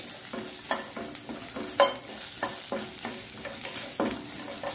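Carrot chutney masala stirred and sautéed in a pan over a low flame, a steady soft sizzle broken by repeated scraping strokes of the spoon, close and moderately quiet with no one speaking.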